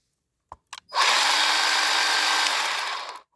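A Bauer 20v battery trim saw starts with a couple of short clicks, then runs in a steady loud whine for about two seconds before winding down. It is close by and no one speaks.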